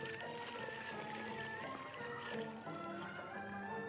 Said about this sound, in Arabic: بعد كده بجيب له خمس كوبايات شوربه خضار او ميه سخنه بتغلي